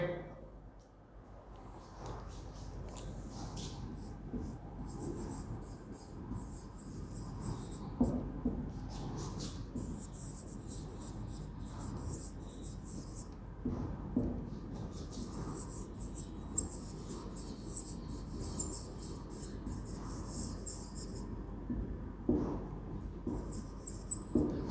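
Scratchy strokes of writing examples on a classroom board run on and off in steady bursts, soft and close, over a low room hum.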